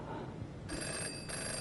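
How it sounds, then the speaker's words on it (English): Phone rings in the police-management video game This is the Police, a faint repeating ring playing over a low background music bed. "I have a phone call, everybody."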